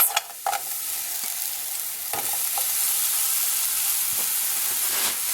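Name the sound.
frozen onions frying in a hot pan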